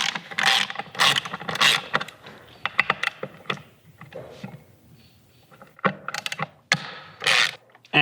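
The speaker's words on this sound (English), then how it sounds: "So to take these two bolts off, you're going to need a T30 star head." Bolts come out of a 2004 Harley-Davidson Sportster 1200 with a T30 star-head driver, giving loud, close bursts of ratcheting clicks separated by short pauses and a few sharp metallic knocks.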